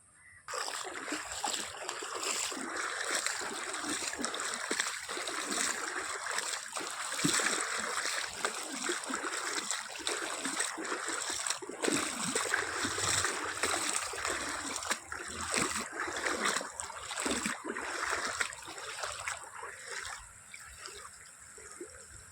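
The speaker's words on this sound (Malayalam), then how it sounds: "റോഡ് അങ്ങോട്ട് വെള്ളം ക്രോസ് ചെയ്തിരിക്കുന്ന ഒരു അവസ്ഥയാണ് കാണുക ചെറിയൊരു ഒഴുക്കും കാര്യങ്ങളൊക്കെ ഉണ്ട്" Floodwater runs across a road in a shallow current, a continuous rushing and splashing wash that stays loud and steady throughout, with no voices over it.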